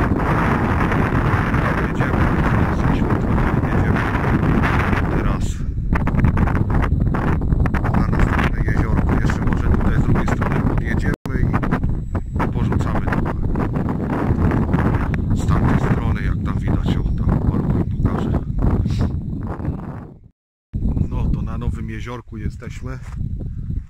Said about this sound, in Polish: bo tu za mocno wiatr nam wieje